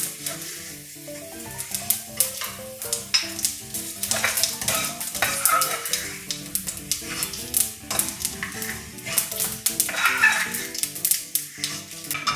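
Fenugreek seeds frying in oil for a Kerala rasam, a lively crackling sizzle broken by repeated scrapes and clinks of a stirring spoon against the pan.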